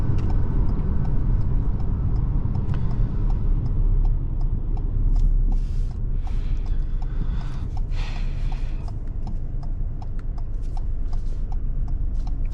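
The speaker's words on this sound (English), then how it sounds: "listen to the note of this engine." A 2022 Ford Escape S engine hums and rumbles steadily from inside the cabin while driving, with faint road noise and occasional light clicks, no talking.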